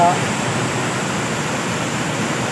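A strong river current rushes steadily, a broad, loud, unbroken roar of flowing water heard up close, with no pauses or changes throughout.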